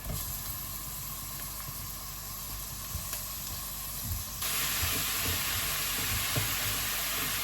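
Minced beef for Nigerian meat pie frying in a pan, a soft continuous hiss with faint scrapes as the lumps are broken up, growing louder and brighter partway through.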